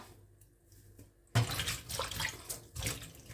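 Enoki mushrooms are rinsed under running water. The water splashes in suddenly partway through and keeps running steadily, close by, with no talking.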